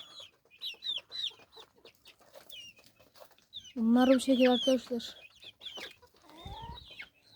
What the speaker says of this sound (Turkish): Tavuklar da artık yavaş yavaş içeri giriyor.